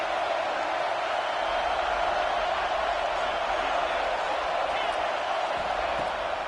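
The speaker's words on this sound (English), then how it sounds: "Decibels rising as the crowd gets behind this defense on third down." Football stadium crowd roaring in a sustained, loud wash of cheering on a third down, steady and dense throughout with no break.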